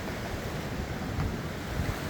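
Ocean waves at Punta Brava near Ensenada, Baja California, a steady wash of surf heard close to the water, moderately loud and even with a low rumble and no voices.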